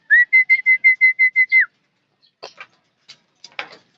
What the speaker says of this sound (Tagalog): Meron na mga dumadaan mga kalapatids.